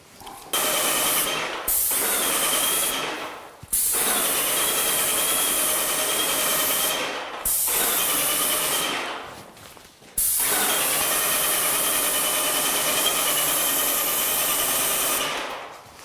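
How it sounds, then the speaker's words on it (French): A low-pressure airless paint spray gun sprays wall paint in long, loud hissing bursts, five in all, separated by short silent pauses, close and without speech. "Alors on voit que la peinture au pistolet est extrêmement rapide, à peu près 10 fois plus rapide que la peinture rouleau"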